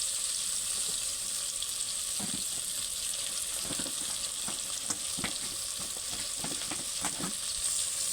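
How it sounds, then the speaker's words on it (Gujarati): Okra sizzles in hot oil with cumin and asafoetida as it is stirred for a Kathiyawadi village-style kadhi. A steady frying hiss runs throughout, with scattered spoon scrapes and stirring clicks close by and no talk. "હિંગ, ભીંડો અને મિક્સ કરી નાખીએ હરખું."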